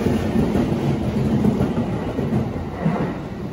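Rumbling rail noise at a Shinkansen station on the Tokyo–Osaka line, a steady, fairly loud wash of wheels and carriages with faint rhythmic clatter, no voices.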